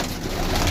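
Pigeons kept by a fancier cooing close by, a brief low throaty burble that continues through the whole moment.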